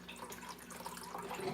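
Ice-cold water, about 1 1/3 cups, pours in a soft steady trickle for a moment, quiet and close.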